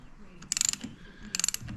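A ratchet driving a long-reach 3/8 socket on a Peterbilt power take-off unit gives two short bursts of rapid clicking, close and moderately loud, with quiet gaps between.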